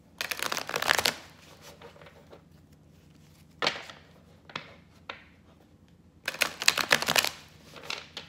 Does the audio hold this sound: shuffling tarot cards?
yes